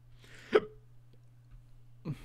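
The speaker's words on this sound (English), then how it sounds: "Don't tell me I have hiccups now." Someone gives a sharp, involuntary hiccup during a Rivals of Ixalan card draft, a short close burst that stands alone in quiet, with a second softer one following about a second and a half later.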